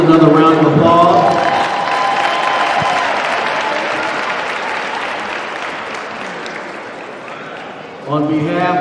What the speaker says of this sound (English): Let's give all of our seniors another round of applause.